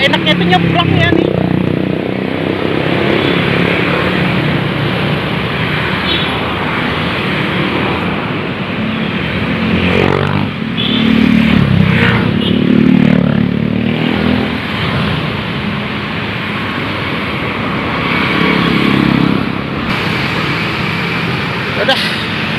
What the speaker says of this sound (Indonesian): Duh, ini kencang banget mobilnya nih.